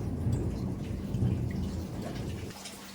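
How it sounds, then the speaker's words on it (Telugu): Thunder rumbles low and heavy through a steady downpour of rain, continuous and fairly loud for a few seconds before easing slightly, with no voices. "ఉరుములు మెరుపులు ఎక్కువగా ఉన్నాయండి"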